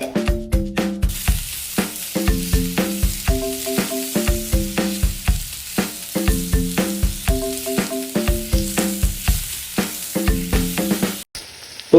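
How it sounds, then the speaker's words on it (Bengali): Onions frying in a wok with cardamom, cinnamon and bay leaf, a steady close sizzle broken by rhythmic clinks and scrapes of stirring, with no voices. "তো এখন আমি পেঁয়াজগুলো সুন্দরভাবে দিয়ে দিব।"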